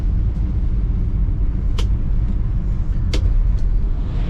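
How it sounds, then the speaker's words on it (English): A 1965 Chevrolet Chevelle Malibu Sport Coupe engine runs quietly and evenly nearby, a smooth low rumble broken by a few sharp clicks. "What struck me about this car was how easy it started and purred, and it's very quiet, like a new car"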